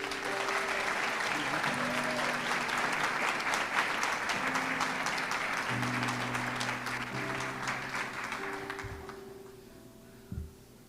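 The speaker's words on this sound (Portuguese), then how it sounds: "Você pode aplaudir ao Senhor por isso?" A congregation at a church wedding breaks into sustained, dense applause that fills the hall, with organ or keyboard chords sounding underneath and a voice murmuring before the clapping fades near the end.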